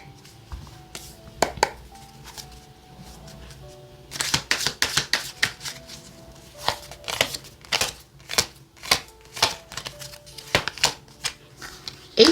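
Tarot cards are handled and shuffled on a table, a run of crisp riffling flicks and taps coming in quick clustered bursts, close and fairly loud, with soft chimes faintly behind.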